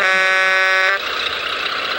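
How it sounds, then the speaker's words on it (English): A truck horn blares once in a loud, steady, close blast for about a second, then cuts off, leaving engine noise underneath. "Hey, honk."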